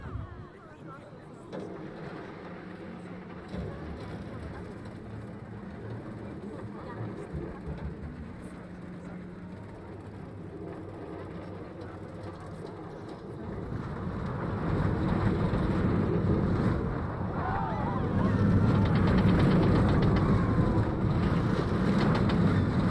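A roller coaster ride on a CBeebies Land Octonauts coaster in Planet Coaster rumbles along with a low steady roar and wind-like rush, swelling louder and more turbulent in the second half.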